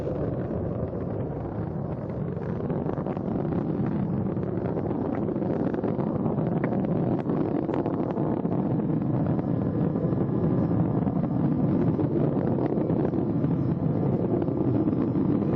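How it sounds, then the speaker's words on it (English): Space Shuttle Atlantis main engines during launch, a steady dense roar that holds constant and loud throughout, broadband and unbroken with no voices over it. "Engines now revving up, standing by for the throttle up call."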